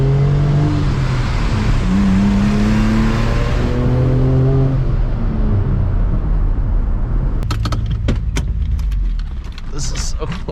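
A Nissan car drives with a loud, steady engine drone and road noise throughout, shifting pitch as it moves, with voices talking over it and a burst of clicks and rattles near the end.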